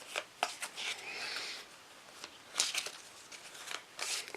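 Cards from a Tiny Epic Defenders turn deck are shuffled close by, with crisp riffling bursts and sharp flicks and snaps in an irregular rhythm.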